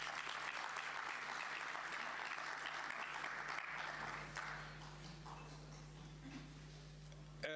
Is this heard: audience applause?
yes